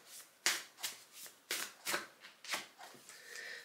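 Oracle cards are shuffled and drawn from a deck, giving about eight crisp riffling bursts in an even rhythm, close and fairly quiet, with no talking.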